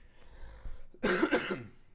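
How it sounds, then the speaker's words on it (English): A person gives a short burst of two or three harsh coughs at close range during a hand-painted 3D texturing tutorial, following a brief stretch of quiet room noise. "Sorry, I've had a cough for like 10 months."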